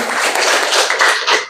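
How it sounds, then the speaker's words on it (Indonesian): Students clap for group 3 in a class, a short burst of bright, busy hand clapping from a nearby group that ends abruptly. "Jadi tepuk tangan buat kelompok 3."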